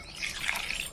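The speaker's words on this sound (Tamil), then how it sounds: "ஸோ 6 லிட்டர் தண்ணி ஊற்றிக்கிறேன் நான்" Water pours steadily into a cooking pot for a Chennai-style village chicken curry, a soft, quiet splashing trickle that lasts about a second with no voices.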